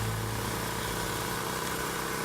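A small Champion generator engine on a food truck idles steadily at close range, a continuous even drone with no talk.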